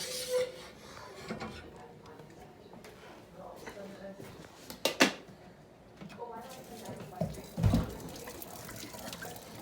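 Pasta water pours and splashes into a sink in a couple of bursts as a Cuisinart pot is drained, with clattering of the pot and background kitchen noise.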